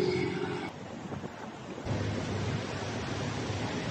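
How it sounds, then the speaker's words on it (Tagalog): Strong, cold wind at Tagaytay buffets the microphone in heavy, rumbling gusts, with a roaring rush that swells and dips throughout. "Ang lakas ng hangin."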